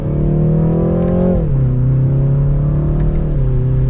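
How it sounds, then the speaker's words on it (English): A 2023 BMW 330i in sport mode accelerating in second gear gives a steady, loud engine drone with a rising pitch, a brief dip around an upshift or lift, then a continued pull, heard up close with no talk. "And so we'll drop down to second gear here, give it a little bit of gas."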